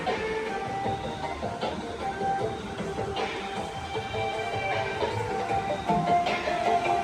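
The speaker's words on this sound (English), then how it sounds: "Somebody is using the hand crank." A hand crank being turned at Disney Springs, giving a steady mechanical whirring and clicking with repeated ratcheting bursts over a busy outdoor background.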